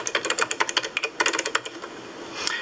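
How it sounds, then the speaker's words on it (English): Rapid, uneven clicking of keys on a 1990s computer keyboard as an email subject line is typed, close and clear, with bursts of strokes then a brief pause and a few final taps. "I'll type email demonstration."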